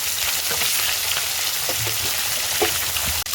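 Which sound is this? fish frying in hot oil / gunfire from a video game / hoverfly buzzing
fish frying in hot oil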